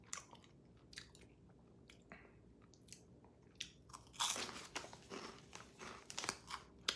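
Someone bites into crimson, Flaming Hot style chips, which may be slightly stale, giving faint, close, irregular crunches and chewing that grow a little louder toward the end, with no talking.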